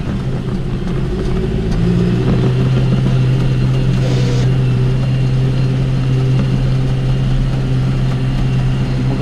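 John Deere 5101 tractor working through tall grass and briars, a steady mid-pitched diesel engine drone with a sustained low hum, close and continuous, with a brief brighter swell partway through.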